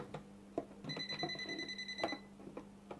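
A handheld breaker finder receiver beeps at a household circuit breaker panel, giving a short run of bright electronic tones that starts near the first second and stops around two seconds, with faint clicks and handling noise around it.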